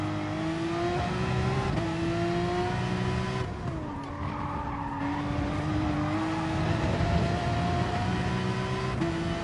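Race car engine in a sim racing game at Brands Hatch, droning steadily with pitch rising and falling through gear changes and throttle lifts, with a brief dip and tire squeal midway, loud and continuous with no talk.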